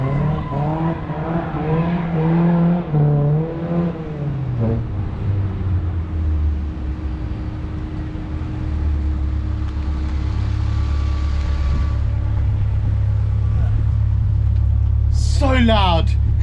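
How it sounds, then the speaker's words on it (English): An endurance race car engine drones steadily and grows louder on its first drive, starting under a man's speech and continuing alone, ending with a brief high squeal. "So loud. It's a race car."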